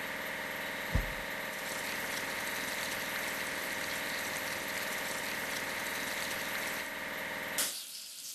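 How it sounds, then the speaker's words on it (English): A cement mixer engine hums steadily in a kids' transport-building video game, a continuous loud drone with a brief knock near the start and a short burst near the end before it cuts off. "Cement mixer."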